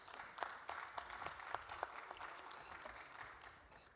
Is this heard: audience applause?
yes